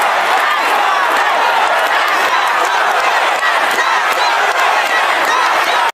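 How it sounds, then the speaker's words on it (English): A large crowd roars and chants "Tax the Rich" at the New York is not for sale rally while Governor Hochul speaks, a dense, loud, continuous wall of voices with no pauses. "here's crowds chanting "Tax the Rich" as New York Governor Hochul spoke at the New York is not for sale rally"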